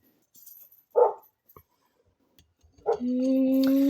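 A dog barks a couple of times nearby in a quiet home, short sharp yaps separated by silence before a steady electronic tone begins.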